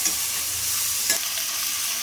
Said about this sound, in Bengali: ডাঁটিটা দিয়েও সবজিটা ভালো করে ভেজে নেব